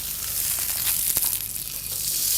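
Beef steak sears in a hot pan after being turned and pressed down, giving a steady loud sizzle and hiss with a faint scrape partway through.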